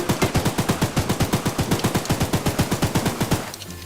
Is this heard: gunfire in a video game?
yes